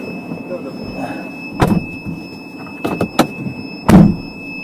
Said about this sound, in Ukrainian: Все одно показує, що відкриті двері. Пищить страшно.